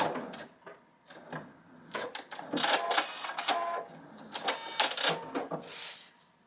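A sewing machine stitches across fabric on a homemade scrappy Christmas tree card, with bursts of rapid mechanical clatter and pauses between runs, close and fairly loud.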